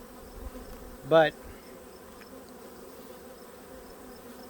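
Honeybees buzzing during a late-season hive inspection, with one loud close pass rising and falling, a low steady hum around it, and a single brief spoken word.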